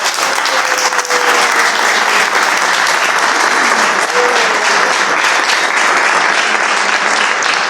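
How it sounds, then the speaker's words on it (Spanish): A church congregation applauds together in praise, a dense, steady wash of clapping that fills the space evenly from start to finish with no talk over it. "Y dar un aplauso al Señor"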